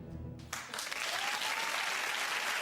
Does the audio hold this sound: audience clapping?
yes